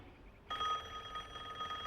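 A telephone bell starts ringing abruptly after a short quiet moment, then holds a steady, bright, continuous ring at moderate volume, with no one talking.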